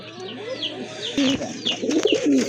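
A pair of Kashmiri racer pigeons coo in soft, repeated low calls close by, growing a little louder toward the end, with faint background chatter.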